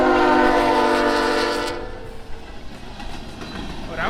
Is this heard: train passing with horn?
yes